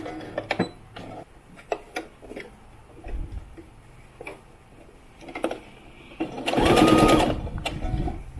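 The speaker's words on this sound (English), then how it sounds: "think I'm gonna try to machine the armholes now." A sewing machine stitching the armholes of a doll dress, preceded by scattered faint clicks and handling noises, then a loud, close burst of stitching lasting about a second and a half.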